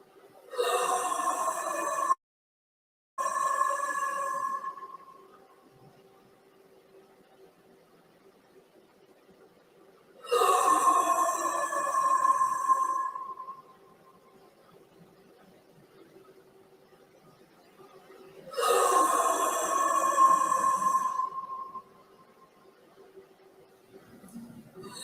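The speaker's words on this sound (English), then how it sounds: "what sounds like some kind of creature breathing deeply in a menacing manner" During a paranormal investigation, something unseen breathes deeply and menacingly in three long, rasping bursts spaced about ten seconds apart, with near quiet between them.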